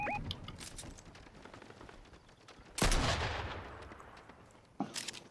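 Video-game gunfire in a Bomb Squad match, heard as a continuous spray of distant shots with two louder close bursts near the end.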